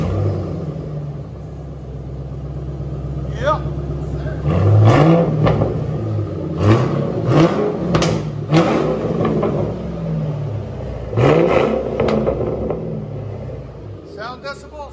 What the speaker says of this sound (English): That's how you do a muffler delete on these. Let you guys hear it in a second.